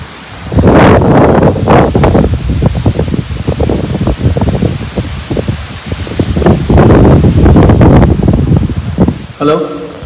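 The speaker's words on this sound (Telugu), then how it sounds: "గాలి దొబ్బుతున్నట్టుంది కదా" Strong wind gusting hard at night around an empty college building, roaring in loud buffeting waves against the microphone and rising and falling for several seconds, with a brief voice near the end.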